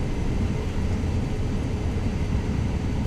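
Steady propeller-plane engine hum at low power while taxiing off the runway in Microsoft Flight Simulator 2020, a dense continuous drone filling the whole stretch without speech.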